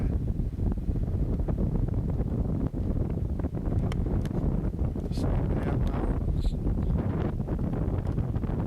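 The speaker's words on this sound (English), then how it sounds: "little bit windy here right now" Strong, constant wind in Alaska buffeting the microphone, a loud roaring rumble throughout, with a person talking briefly over it.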